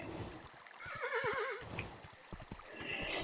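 A horse neighs with a wavering whinny in the video game Kingdom: New Lands, over soft hoof clip-clops, quick snorts and background game ambience.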